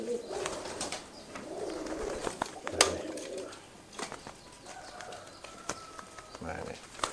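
Pigeon cooing near a person in a loft or yard, soft repeated coos with occasional wing flaps and clatter, while someone talks over it.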